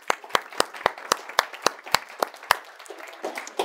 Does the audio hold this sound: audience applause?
yes